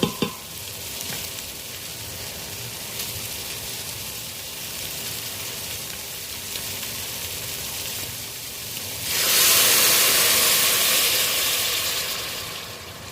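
Water poured into a hot pot of browning beef for Filipino nilagang baka sets off a loud, sudden sizzling hiss partway through that continues steadily after a quieter stretch of low cooking noise.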